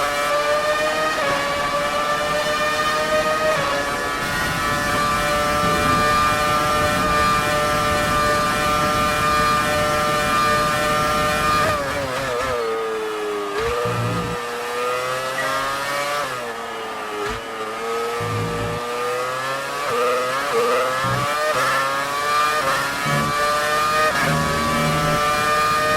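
A screaming V8 Formula 1 engine from the F1 2019 video game howls through high revs, with repeated upshifts, downshifts and throttle blips as the car brakes and accelerates, loud and continuous with no voices.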